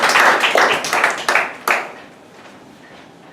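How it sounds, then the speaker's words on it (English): An audience at a Toastmasters club meeting gives a short round of applause after a speech: dense, loud clapping that fades out within two seconds, followed by a single spoken word. "Let's give a applause to"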